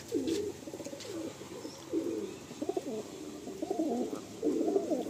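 Madrasi pigeons coo in soft, throaty bursts in a loft, several overlapping calls repeating close by with brief pauses between.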